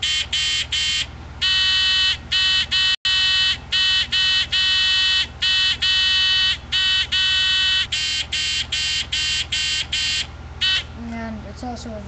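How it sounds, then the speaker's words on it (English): Two different Arduino buzzers beep in quick on-off bursts, a steady loud electronic tone repeating in an uneven rhythm, with a brief different chirping near the end. "the two different buzzers make different sounds"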